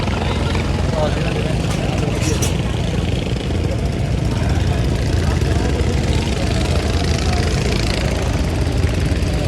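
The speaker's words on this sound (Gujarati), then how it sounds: "બોટ ચાલુ થઈ ગઈ છે" Boat engine running on a dam reservoir, a loud continuous droning hum close by, with people talking over it.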